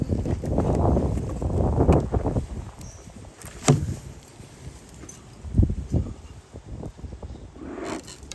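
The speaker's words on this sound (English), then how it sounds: "let's take off this telescoping cover and let's get inside this hive" A brand-new, tight telescoping cover is pried and lifted off a beehive, giving close wooden scrapes, knocks and creaks in several uneven bursts with quieter pauses between.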